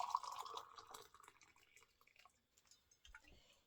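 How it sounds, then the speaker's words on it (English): Hot water poured into a small cup over loose peppermint leaves, a soft trickling stream at first that thins into faint drips and then stops, quiet and close. "Pour some hot water in there,"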